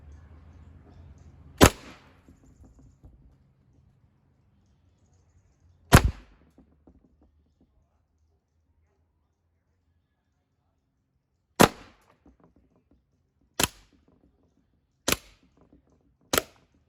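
A First Strike FSC less-lethal pistol fires at a chicken target: six sharp, loud single pops, spaced irregularly with long quiet gaps, the last four coming closer together, each ending in a brief ringing tail.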